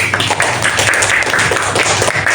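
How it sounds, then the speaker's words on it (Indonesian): A classroom of students claps together for a student group, a dense, steady patter of many hands filling the room at close range without pause. "Tepuk tangan untuk kelompok anggrek."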